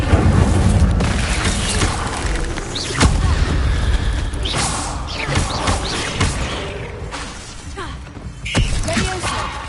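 Hogwarts Legacy spellcasting with Incendio fire spells mixed among other magic, a busy run of whooshing bursts, booms and mechanical clanks against a rumbling game backdrop.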